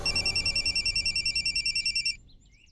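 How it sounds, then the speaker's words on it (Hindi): A telephone rings with a rapid electronic trill in an even stream of short pulses for about two seconds before cutting off, loud and close over a low background hum. "सुखे मामे का फोन है।"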